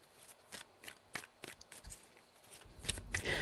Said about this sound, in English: 3 shuffles for Aries and their person.